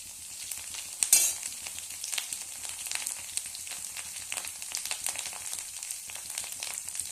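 Ginger and potato frying in a pan, a steady crackling sizzle with a sharp burst of spitting as they hit the oil, then continuous hissing with faint stirring.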